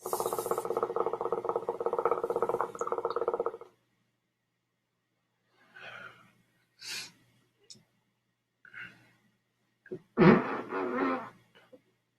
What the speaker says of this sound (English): That fart stinks